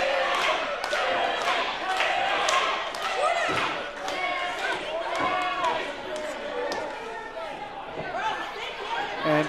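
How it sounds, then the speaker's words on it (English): A wrestling arena crowd in Johnstown roars and chants for Slammin Sammie, with rhythmic thumps and slams from the ring cutting through the dense cheering and chatter. "listen to this Johnstown crowd get behind Slammin Sammie"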